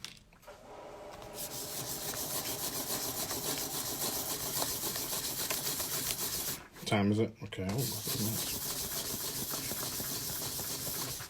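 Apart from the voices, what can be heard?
sanding a coin ring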